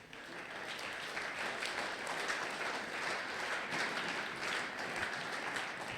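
A church congregation at a Sunday thanksgiving and praise service claps steadily and continuously, a dense, even wash of applause heard at a distance with no talk over it.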